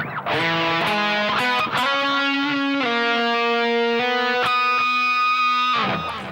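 Overdriven electric guitar runs through a short phrase of quick picked notes settling into a long ringing note, loud and close with no voices.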